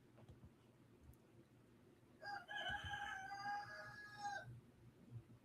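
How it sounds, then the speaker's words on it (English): A rooster crows once at moderate distance behind the recording spot, a drawn-out, wavering call lasting about two seconds over quiet background noise. "Listen to this rooster back here."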